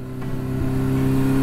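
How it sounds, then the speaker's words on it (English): Four-cylinder engine of a Yamaha XJ550 scrambler revving steadily, a close, loud, even drone with strong low harmonics that swells slightly over a short moment, with no talking. "this four-cylinder engine just revs so freely"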